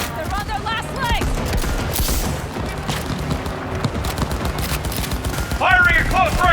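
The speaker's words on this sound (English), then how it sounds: "Firing at close range! We got him! Fire! Fire!" Sustained bursts of gunfire from the video game Cyberpunk 2077 pour out loud and continuously, with rapid overlapping shots and booms. Voices shout in brief stretches near the start and end.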